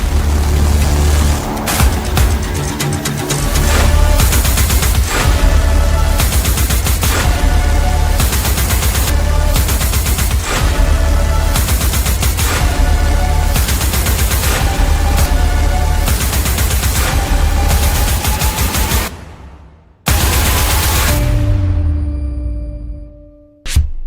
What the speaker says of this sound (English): Enter the SSS Defense P-72, India's answer to the AK-47